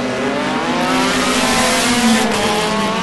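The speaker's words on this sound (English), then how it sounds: "That is Garth de Villiers in the Reynard Volkswagen Formula V 2002 model. Heard him going like anything when he left the line." A Reynard Volkswagen Formula V 2002 race car at a hillclimb accelerates hard with a loud, steady engine drone that rises in pitch throughout, close by and with no voices.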